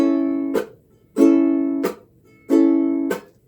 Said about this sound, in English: It is basically adding a percussion sound to your strum.